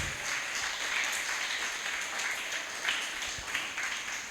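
A church congregation claps hands together during a worship service, a steady, fairly loud wash of applause that continues without a break.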